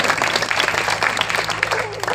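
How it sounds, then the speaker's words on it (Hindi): Audience at a birthday gathering for a swami, with a hall full of people clapping steadily, a dense even applause throughout with no break. "आपकी इच्छाओं के लिए आप तालियां बजाएं।"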